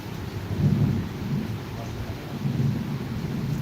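Steady downpour with rolling thunder rumbling in waves, a dense low roar filling the background.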